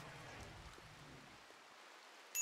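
Steady rain falls in a video game, a soft, even hiss of patter that holds faint and constant throughout, with no voices over it.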